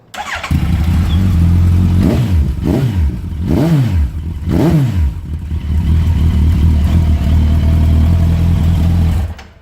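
A 2011 Suzuki GSF1250 Bandit motorcycle with 6,139 miles fires up close by, then revs in three sharp rising-and-falling blips before settling back to a steady, throaty idle.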